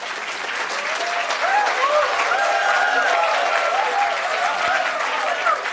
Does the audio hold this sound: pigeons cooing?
no